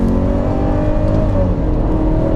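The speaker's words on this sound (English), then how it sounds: "Then you have downshifts, 4-cylinder engine, you can hear this high pitch noise." A 2020 Mercedes-Benz GLE 350 4MATIC with a four-cylinder engine downshifts, giving a steady loud engine drone with a thin high-pitched whine rising and falling inside the cabin.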